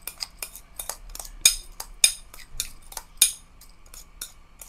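Rice stirred into leftover mushroom sauce in a pan for a vegetarian steamed rice dish, a spoon scraping and clinking against the metal in repeated sharp strokes, close and clear with no talking.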